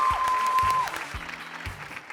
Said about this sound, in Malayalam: നല്ലൊരു കയ്യടി പ്ലീസ്.